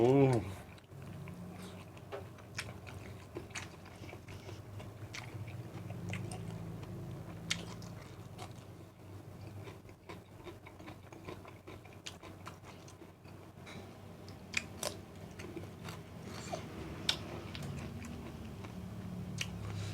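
Close, wet chewing of grilled squid stuffed with eggs, dipped in seafood sauce, with steady bites and mouth sounds running throughout, over a faint background murmur.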